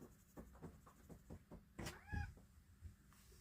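A male cat meows several times, with quiet rhythmic scratching in the background.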